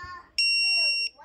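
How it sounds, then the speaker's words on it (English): A piercing, very loud 110-decibel electronic alarm tone from a drone's lost-model buzzer blares for under a second, with a voice talking just before and after it. "So it starts to beep. And that's 110 decibels."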